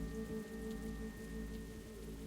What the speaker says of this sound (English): The rain will help me in this regard.